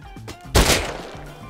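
A single sharp burst of video game gunfire cracks out close and loud amid low background sound during a headshot-only challenge match.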